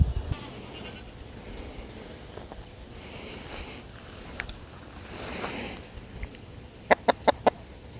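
Chickens cluck and murmur softly while being fed grain in a spring garden, with low, intermittent calls throughout and a few sharp taps or pecks near the end.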